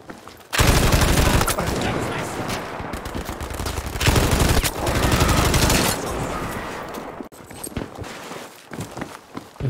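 A machine gun in Battlefield V is emptied in long, loud, continuous bursts of rapid fire. Brief pauses break up the firing, and scattered game sounds and footsteps follow as the shooting tails off.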